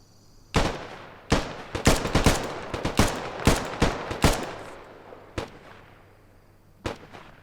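Rifle shots crack in a fast string on a military simulation training range at 100 meters, about a dozen sharp reports fired in quick irregular succession over several seconds, loud and close, then a last isolated shot after a short pause.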